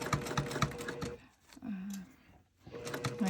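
A treadle sewing machine with no motor runs in quick, even stitching bursts, then pauses briefly and starts again; the clatter is moderately loud and close with no voices.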